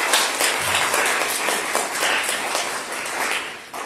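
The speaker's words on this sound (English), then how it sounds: "And let's clap for that." Church congregation clapping together during an Easter worship service, a steady dense wash of applause sustained for several seconds, fading slightly at the end.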